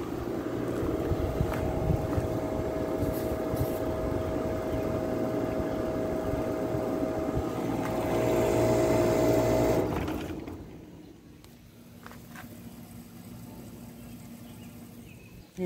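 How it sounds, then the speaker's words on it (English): A low, steady mechanical drone of an airplane passing overhead blends with a neighbor's air conditioner running, the combined rumble holding evenly for about ten seconds before dropping to a quieter hum. "There's an airplane going by and the neighbor's air conditioner's on"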